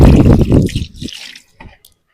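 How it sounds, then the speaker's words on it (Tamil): Water splashes and trickles while mixer jar parts are rinsed under a tap, a brief burst of pouring followed by a few scattered drips that fade out. "இதெல்லாம் தண்ணி ஊத்தி வாஷ் பண்ணிடலாம்."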